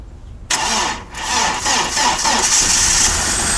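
A KAMAZ truck engine cranks and catches in the cold, jumping from silence to a loud, rough diesel roar that keeps running steadily close by, with no voices over it.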